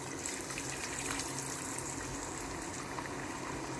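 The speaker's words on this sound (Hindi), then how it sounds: "चिकन को मैं डालूँगा गरम गरम ऑयल के अंदर" Chicken pieces deep frying in hot oil give off a steady, bubbling hiss that stays even and fairly quiet throughout.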